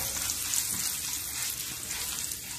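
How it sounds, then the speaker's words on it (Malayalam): Dried red chillies and curry leaves fry in hot coconut oil with a steady, close hiss and crackle and no voices. "ഇതിലേക്ക് തന്നെ നമുക്ക് ഈ ഒരു വറ്റൻമുളകും കൂടെ ഒന്ന് വറുത്ത് പോരാം"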